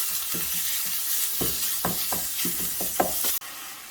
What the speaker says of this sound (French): De temps en temps, on vient mélanger ici pour être sûr que ça crame pas.